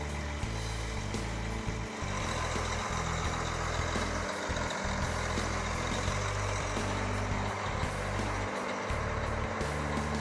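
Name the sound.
Case IH STX500 QuadTrac tractor engine idling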